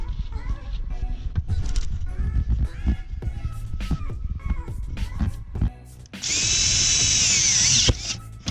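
A power drill whirs in short bursts amid clatter while bucket seat bolts are driven in a Nissan 240SX, then one long, steady high-pitched run of the tool near the end.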